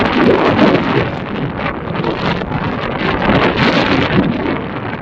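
Loud, constant wind buffets the microphone in Silang, Cavite, a heavy rushing roar with gusty swells and no other sounds coming through.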